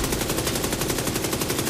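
Rapid automatic gunfire from The Division 2, a steady stream of shots at an even, fast rhythm, loud and continuous with no talk over it.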